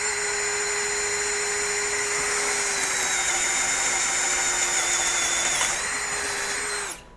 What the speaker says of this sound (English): So in speed 1, no problem whatsoever to drive that 1-inch auger.